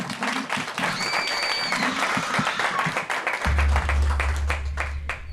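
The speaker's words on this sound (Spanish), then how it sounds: "un público maravilloso que nos acompaña con un aplauso que arranca aquí." An audience applauds at a live podcast recording, dense clapping heard throughout with a low hum entering partway and faint talk mixed in.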